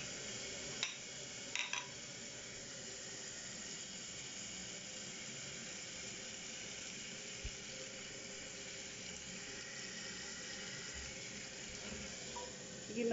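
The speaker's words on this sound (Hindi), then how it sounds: "ये मसाला भुन रहा है।" Spices roasting in a pan for a vegetable platter, giving a faint, steady sizzle and hiss that runs evenly throughout with only a couple of small clicks.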